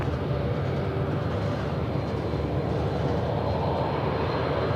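Jet aircraft engine thrust at Sydney Airport at night, a continuous broadband roar that holds loud and steady throughout, with no voices.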